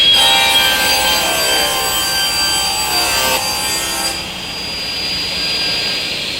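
A table saw cuts through wood with a loud, sustained high whine and rasping hiss, the tone dropping slightly as the blade passes through the board, then running on more quietly near the end.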